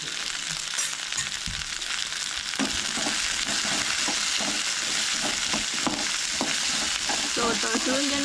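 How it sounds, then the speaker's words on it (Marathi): Onion, garlic, green chilli and ginger fry in a pan for a Goan dish, making a steady sizzle broken by repeated scraping stirs that grow more frequent partway through. "त्याच्या मागीर लसूण, मिरसांगो आणि आले हे सगळे हांगसर ॲड करूंक जाय आणि तळसळून घेऊंक जाय"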